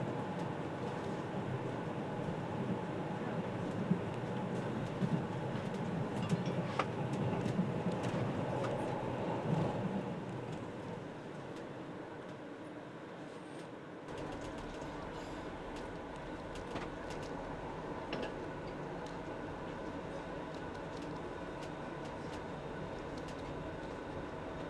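Bergen Railway train running steadily toward Flå station, a continuous rumble of wheels and carriage noise that is louder and rougher at first, then settles into a smoother, quieter hum with occasional faint clicks.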